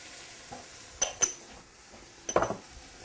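Nopales and eggs being stirred in a pan, with a few sharp utensil scrapes and clinks over a faint, steady sizzle of frying, close and fairly quiet.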